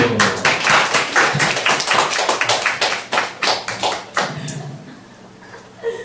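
A church congregation claps in quick, loud, rhythmic unison during a sermon, then the claps thin out and fade near the end.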